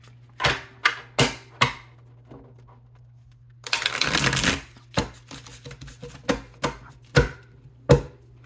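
A tarot card deck is handled and shuffled close up: a string of sharp card snaps and taps, then a brief dense riffle burst, followed by more crisp, evenly spaced card flicks and slaps.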